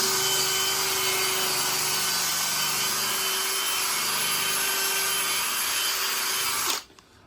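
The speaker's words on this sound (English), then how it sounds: "Probably have to rub it down a bit with a bit of wet and dry" Wet and dry sandpaper rubbing down a part during a Kawasaki KMX 125 motorcycle refurbishment, a steady, loud, continuous abrasive hiss with a faint tonal hum underneath that stops abruptly near the end.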